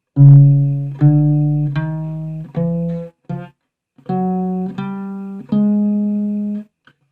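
Single guitar strings are plucked one after another, about eight notes with short gaps, each ringing clearly and decaying as the pitch is adjusted.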